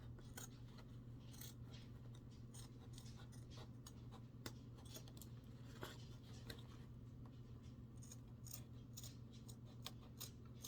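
Scissors trimming a fabric seam allowance down to about a quarter inch, a steady run of quiet crisp snips and blade clicks close up over a constant low hum.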